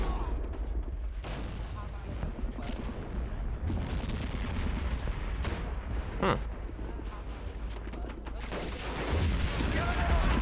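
Artillery shells and gunfire rumble in the war video game Men of War: Assault Squad 2: continuous booms and crackling shots with one sharp impact midway, while a voice talks over the battle.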